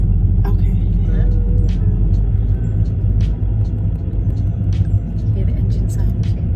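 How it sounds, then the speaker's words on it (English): Engine of an automatic car during a driving lesson, a steady low rumble running throughout with faint road noise, heard from inside the cabin without gear changes. "Hear the engine sound change."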